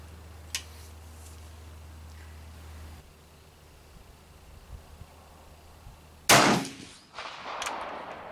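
A single sharp rifle report from a 1903A4 during load testing at an outdoor range, one loud crack with a short decaying echo against quiet background noise, preceded by faint clicks.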